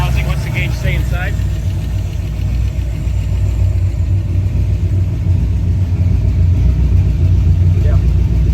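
A 1962 Ford Falcon engine, in need of a valve adjustment, idles steadily with a loud, continuous low rumble, while people talk nearby over it.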